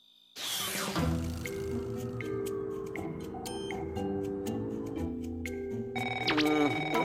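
A telephone rings in an animated spy cartoon episode, its tones sounding over a busy music score with clicks and swells that grows louder near the end.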